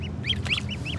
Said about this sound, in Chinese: 发现这两边在这里有两只鸭，小鸭在这里吃那个海草的